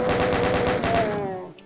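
Rapid chaingun bursts in Doom 2, a fast even stutter of about a dozen loud shots that trails off into a fading ring.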